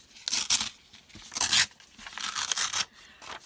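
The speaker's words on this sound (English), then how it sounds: "if you take and tear away from you, then you're going to get this edge, the paper edge" Paper being torn by hand in several quick ripping strokes for a junk journal, each tear a bright crackling rip with short pauses between, close and fairly loud.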